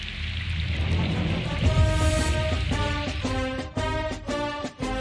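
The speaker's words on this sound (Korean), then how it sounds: "또 비가 와." Heavy rain pours down steadily outdoors, a dense close hiss of drops on surfaces, with low rumbling underneath and some musical tones joining partway through.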